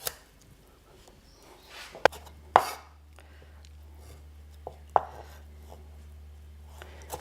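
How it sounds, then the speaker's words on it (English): A knife cuts radishes into thin julienne sticks on a board, giving a few isolated sharp knocks and a brief clatter spread over several seconds in a quiet room, close and with no one speaking. "I think I'll just cut them into some very thin sticks, like a julienne"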